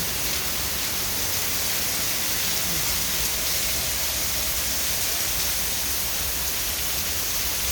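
Steady rain pours down in a dense, unbroken hiss that stays loud and even from start to finish, with no voices.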